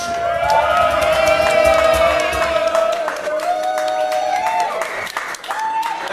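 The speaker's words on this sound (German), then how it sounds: "bitte einen kräftigen Applaus für uns, Sesh!" A concert crowd at the Viper Room applauds and cheers a band's new bassist: dense, loud clapping and crowd noise with a sustained ringing instrument tone running through it, easing slightly toward the end.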